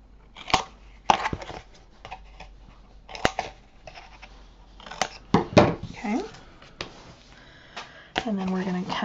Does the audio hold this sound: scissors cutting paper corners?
yes